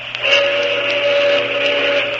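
A Monon Railroad train whistle sounds from a distance near a 1936 ballpark, one steady sustained tone with a faint hum beneath it, held throughout without a break.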